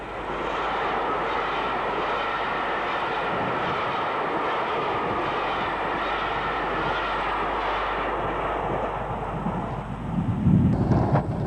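A Class A1 steam locomotive, No. 60156 fitted with roller bearings, hauls an up motor rail train past in a dense, continuous roar that holds steady before a louder low rumble swells near the end; no one speaks.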